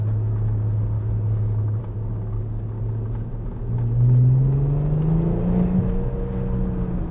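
Audi S4 B5 with a twin-turbo engine revving up, a deep full-bodied roar with rising harmonic sweeps that swells louder midway, heard close and alone without talk.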